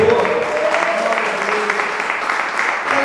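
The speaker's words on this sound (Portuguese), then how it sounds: "Aplaude e glorifique o nome do Senhor." A church congregation claps together in sustained, dense applause at an even loudness throughout, with voices mixed into the crowd.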